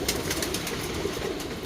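Kalonger pigeons settle after feeding, giving soft, continuous cooing and murmuring from a small flock nearby, steady throughout without any talk.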